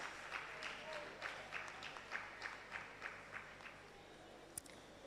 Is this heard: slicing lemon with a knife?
no